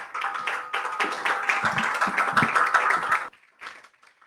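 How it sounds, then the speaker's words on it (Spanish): Lecture audience gives a round of applause, a lively burst of clapping with a few murmured voices underneath that stops abruptly after about three seconds, leaving only a few faint sounds. "Un aplauso para ellos."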